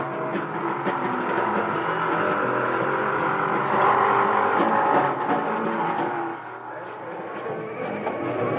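Drag racing cars roar at a weekend meet, a loud continuous engine din swelling to a peak near the middle, then dropping to a lower steady rumble, with no speech.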